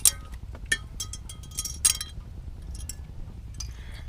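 Metal brake pad clips pried out of a front caliper on a 2012 Land Rover LR2, giving a few sharp, bright metallic clinks close by, with quieter rattles between and a soft workshop hush underneath.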